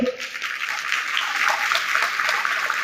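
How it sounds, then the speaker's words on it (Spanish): An audience at a book presentation claps together, a dense, steady wash of applause that stays fairly loud for about three seconds, no speech on top. "La aplaudimos, por favor."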